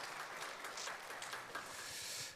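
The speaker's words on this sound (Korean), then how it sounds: "박수" A church congregation applauds during a deacons' seminar, a brief patter of many hands clapping at a distance, fairly soft and steady with no speech over it.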